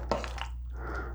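Liquid ingredients pour into a slow cooker of chicken stew, a short splash and drip followed by a softer steady pour, close by and without speech.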